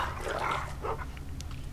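Snarling barks and growls as a dog attacks in the Game of Thrones video game, a close burst of rough barking over churning combat noise, then a sharp yelp-like cry.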